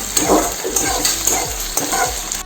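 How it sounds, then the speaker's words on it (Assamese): Pigeon meat frying in a pan for an Assamese curry is stirred steadily, with close, rhythmic scrapes of the spoon over a continuous loud sizzle. "তাৰপিছত লাৰি দি দিম।"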